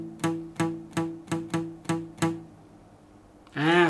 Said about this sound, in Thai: เสียงนี้นะครับจะเรียกว่าการมิ้วสายนะครับ